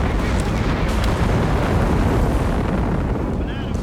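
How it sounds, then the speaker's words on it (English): A walking Stuka rocket barrage pounds the ground in a Company of Heroes 3 battle, a loud, dense rumble of overlapping explosions and booms filling the whole stretch. "But a walking Stuka out."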